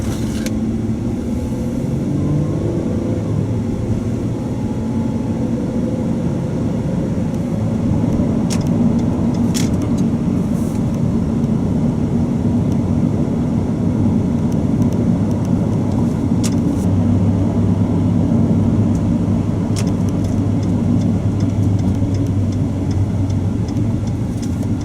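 A 2008 Ford Escape XLT with a V6 gives a constant low engine and road rumble from inside the cabin while driving, steady and loud throughout with faint clicks.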